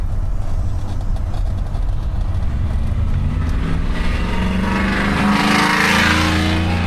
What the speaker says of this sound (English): Angry truck with no exhaust.